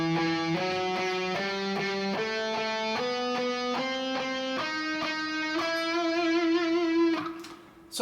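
Distorted electric guitar runs a continuous double picking study, each note picked twice in quick down-up pairs, rising through an even, driving pattern without pauses before ringing out at the end.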